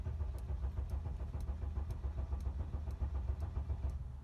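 A Mercedes V6 turbo diesel engine with suspected bad fuel injectors cranks over rhythmically without catching, a steady repeated churning of the starter that never turns into a running engine.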